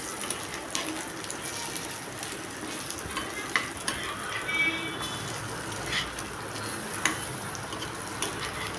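Mutton cutlets, minced-meat vadai, frying in hot oil in a pan and being turned over, giving a steady dense sizzle with small crackles and brief clinks of the turning spoon, no talk.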